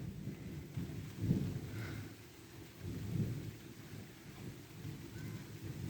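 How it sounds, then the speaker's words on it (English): Rain starting to fall in a thunderstorm, with low rolling thunder swelling twice over a steady, faint wash of rain. "it's gonna start like raining like crazy"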